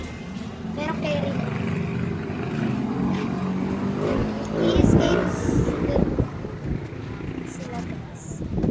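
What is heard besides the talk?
wind blowing at an outdoor roller skating spot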